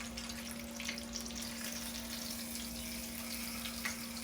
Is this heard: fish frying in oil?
yes